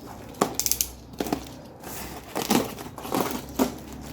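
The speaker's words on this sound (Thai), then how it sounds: "วันนี้จะมาแกะกล่องนะครับ คีย์บอร์ดอีกหนึ่งรายการนะครับผม" Packaging crinkles and rustles while a Casio CTK-4400 keyboard is unboxed, sharp crumpling bursts of plastic and cardboard coming in several separate handlings, close by and fairly quiet with pauses between.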